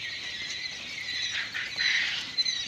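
Young quail chicks on a farm, dosed with vitamins after a day on water, keep up a loud, continuous high-pitched chirping and squealing chorus throughout, with no talk over it.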